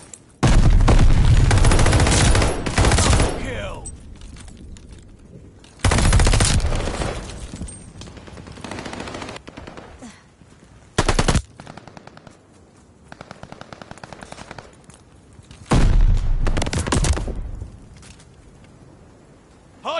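Rapid automatic gunfire from a Call of Duty esports match between college teams, loud bursts of sustained fire separated by quieter gaps, several volleys over the span with no talk.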